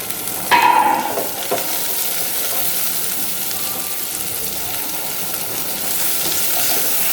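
Onions and sliced carrots frying in a pan on medium heat, a steady bright sizzle with a brief clatter near the start and a gentle swell toward the end, no voices.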